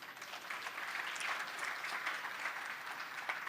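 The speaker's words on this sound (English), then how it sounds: "So give yourselves a big round of applause." Audience applause at a rail station dedication in Little Tokyo and the Arts District, a steady, dense wash of many hands clapping that holds evenly from start to finish without voices on top.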